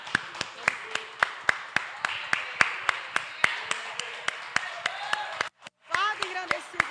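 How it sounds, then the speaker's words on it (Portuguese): A church congregation at an evangelical service claps in a steady, even rhythm, sharp hand claps repeating about every third of a second over a low murmur, then a brief pause before voices and cheering come in. "Vamos aplaudir o Senhor por essa palavra?"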